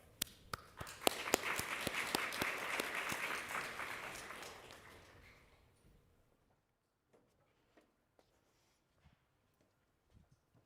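An audience at an academic book event honouring Jean-Louis Cohen breaks into warm applause that swells for about four seconds and fades out by six, leaving faint scattered taps and shuffles in a quiet room.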